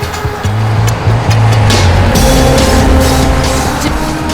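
Fast getaway car engine in a police chase, a loud droning roar with rising and falling revving tones, steady and close throughout.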